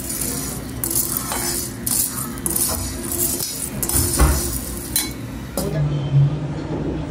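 Two bowls of sago pearls dry-roast in a pan while a spoon stirs them, making steady light clinks and scrapes against the metal under a soft kitchen background.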